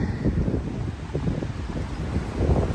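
Gusty wind blows steadily across an outdoor microphone after a big storm near a large lake, a continuous low rumbling buffet with no talk.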